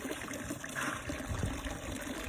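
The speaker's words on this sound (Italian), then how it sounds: "anche un sorso d'acqua da questa buonissima e bella fontana" Water trickling from a Sicilian drinking fountain, a faint steady splash and dribble heard close by.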